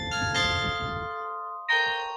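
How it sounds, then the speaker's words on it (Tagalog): Bells ring out near an orchard and flower garden with bright, sustained metallic tones, one strike decaying slowly before a second clang sounds, clear and without talk. "wini-welcome tayo sa lugar na ito dahil sa magandang tunog ng mga kampana"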